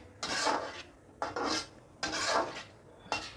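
Onion paste scraped into a karahi pan with a utensil for chicken karahi, four distinct rasping scrapes in a steady rhythm, close and fairly clear with quiet gaps between them.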